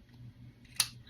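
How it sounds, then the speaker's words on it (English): A single quick scissors snip through glimmer paper while crafting a birthday card, crisp and close against a faint low background hum. "So just snip them like this."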